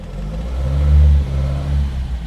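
Big-bore B20 engine in a Volvo Amazon revving in a short throttle blip, the note swelling to a peak and falling back to idle, close and fairly loud.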